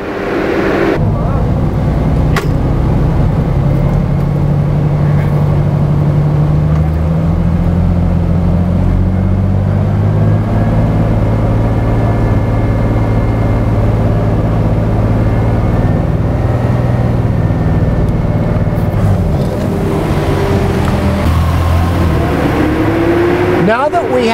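A 2007 Ford Mustang engine with a fault that cuts out between 2000 and 2500 RPM revs under throttle, a loud steady drone rising and falling in pitch as the throttle is worked.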